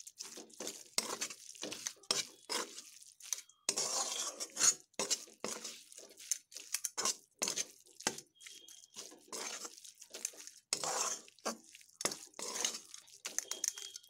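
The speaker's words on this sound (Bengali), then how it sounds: "এবার এই গরম মশলাটাকে একটু ভালোভাবে মিশিয়ে নেব" Garam masala is stirred into cooking giant taro stems, producing a long run of irregular utensil clinks and scrapes against the pot with brief pauses between them, close and fairly quiet.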